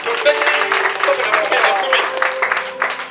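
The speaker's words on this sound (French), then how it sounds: "Acclamons le roi des rois" A church congregation claps and cheers to acclaim the king of kings, a dense, loud wash of applause mixed with voices and shouts filling the room.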